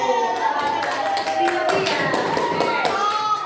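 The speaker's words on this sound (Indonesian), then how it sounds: "Jawabannya betul. Tepuk tangan." Children in a classroom clap their hands in a brisk, ragged burst of applause, close and fairly loud, with young voices mixed in among the claps.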